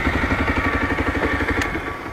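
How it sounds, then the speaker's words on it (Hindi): A Bajaj Pulsar 125 motorcycle idles with a steady, even exhaust putter, close and fairly loud, holding a regular low pulse throughout without any voices. "मुझे उम्मीद नहीं थी कि इसका एग्जॉस्ट इतना प्यारा होगा"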